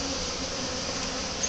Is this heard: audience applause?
no